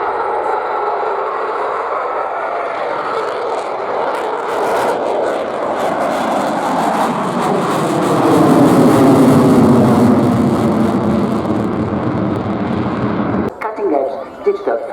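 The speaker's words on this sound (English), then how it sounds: "Just a transport aircraft" A transport aircraft flies past at the RIAT air show, a broad, steady engine roar that swells around the middle and cuts off sharply near the end, with commentary over a loudspeaker.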